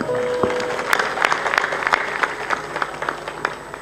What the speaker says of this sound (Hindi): जोर से ताली बजा